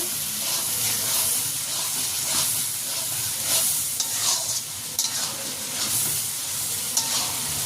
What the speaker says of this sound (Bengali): এখন দিয়ে দেবো কিছু টমেটো কুচি টমেটোগুলো একটু কষিয়ে নেব